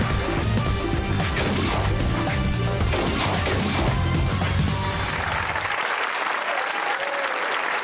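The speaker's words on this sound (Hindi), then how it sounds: "वाह ताली बजाएं सना के लिए" Loud studio audience applause on a Pakistani comedy talk show, dense sustained clapping close by that thins out toward the end.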